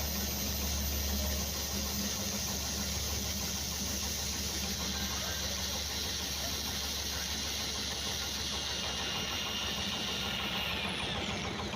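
Homemade generator engine running steadily and close, a continuous mid-pitched drone with a faint knocking texture that holds level throughout, with no talk over it.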